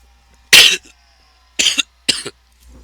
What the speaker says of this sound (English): I'm not coughing as much here as I was yesterday